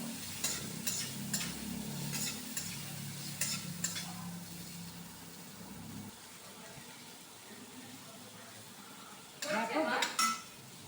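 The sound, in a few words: eggplant frying in hot oil in a pan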